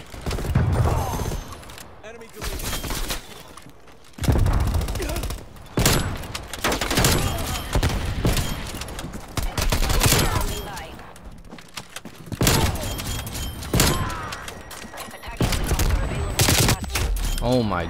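Loud gunfire in Call of Duty Black Ops Cold War, with a sniper class built on the Pelington 703. Several bursts of close shots and fusillades are separated by short pauses, and voices or game chatter run underneath.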